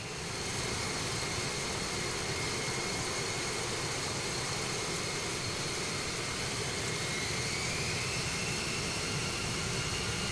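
An A-10 Thunderbolt in Microsoft Flight Simulator 2024 spools up its second jet engine with a steady, loud turbine roar and a rising high whine that holds for the full stretch, with no talking.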